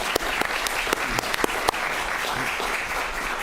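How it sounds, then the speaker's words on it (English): Audience applause fills a city council meeting chamber, a steady close wash of many hands clapping, with a few sharper louder claps standing out early on. "Let's give a round of applause to Mel."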